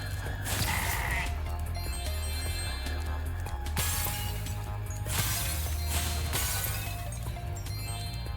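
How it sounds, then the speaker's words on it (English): Sheep bleat repeatedly in Spyro Reignited Trilogy, with several loud bursts spread across the stretch alongside game music and clinking effects. "These invading sheep in their spaceships must be stopped."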